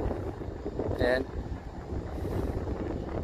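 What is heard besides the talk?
strong wind blowing into the microphone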